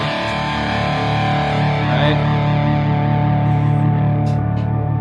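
A sustained, smeared wash of sound from a reverb freeze effect hangs continuously, thick and droning like a frozen reverb tail, with faint higher tones drifting through it.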